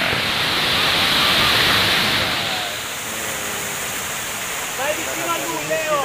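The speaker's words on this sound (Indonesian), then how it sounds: "sambil menikmati suasana air terjun Benang Kelambu guys." Benang Kelambu waterfall in Lombok, central Lombok's Rinjani geopark, roars as a loud continuous broadband rush, with faint chatter from a crowd of visitors surfacing beneath the falling water.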